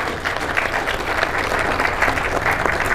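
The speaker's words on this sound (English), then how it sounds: "A warm round of applause as he leaves us." An audience at an inaugural conference gives a warm, steady round of applause, dense clapping that holds at an even level throughout.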